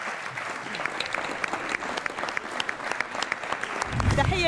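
Audience applause at a New Year's variety show, a dense continuous clapping from a studio crowd filling the whole stretch, swelling slightly louder toward the end.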